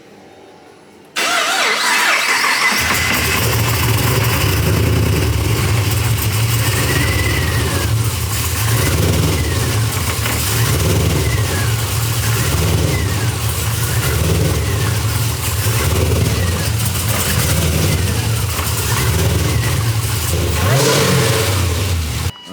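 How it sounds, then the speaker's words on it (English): A supercharged Pontiac G8 GT V8 starts up and settles into a loud, close, lumpy idle that is running rich, with a few throttle blips and light revs rising and falling over about twenty seconds. "The car was idling pretty rich, so he went ahead and pulled some fuel"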